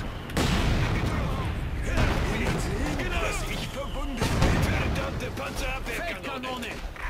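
Heavy bursts of gunfire and booming artillery erupt repeatedly amid battle noise in Company of Heroes 2, with shouting voices mixed in over the chaotic racket.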